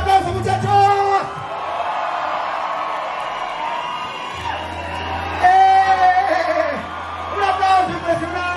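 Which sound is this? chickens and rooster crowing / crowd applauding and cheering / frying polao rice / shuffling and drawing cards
crowd applauding and cheering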